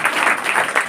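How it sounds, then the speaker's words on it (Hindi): A classroom of students clapping together in applause, a dense, steady patter of many hands that fills the short moment without pause. "जोरदार ताली बजाइए"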